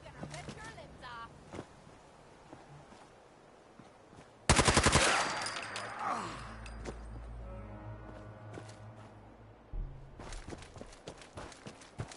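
A sudden loud burst of rapid automatic gunfire in Fallout 4, close and harsh, then lower rumbling game sounds and scattered effects while voices call out over the action.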